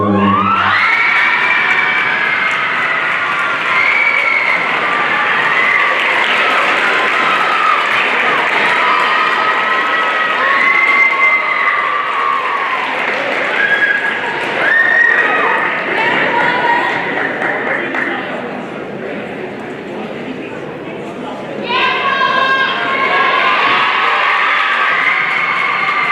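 A crowd at a high school fall sports celebration applauds and cheers for the athletes, a loud, sustained wash of clapping mixed with shouts and whoops that dips briefly near the end before surging again.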